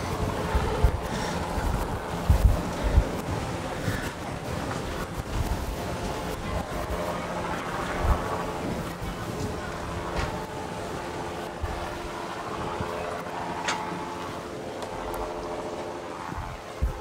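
Cruisers 50 GLS motor yacht easing out of its slip, a low steady engine rumble with wind and water noise, close to the microphone.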